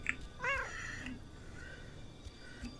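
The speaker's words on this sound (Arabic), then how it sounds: "ايه ده طلع قطة" A cat meows in a video game, one clear rising-falling meow near the middle set over busy game background noise, with a short bright chirp at the start.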